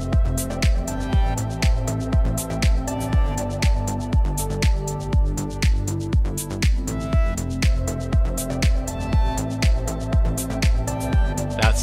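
An electronic music track co-written with Udio plays steadily, with punchy repeating kick and percussion hits under layered synth lines and sustained tones, dense and loud throughout with no voices.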